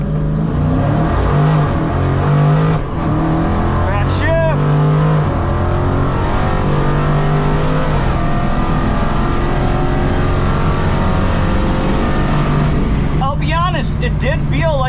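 A Dodge Challenger drag car in a 1320 shootout class launches off idle at a MoParty drag strip, its engine roaring loud and close throughout with rising revs and gear changes, while a voice speaks over the noise.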